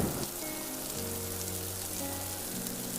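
Heavy rain in a storm pours as a dense, steady hiss, with a soft tonal music bed underneath.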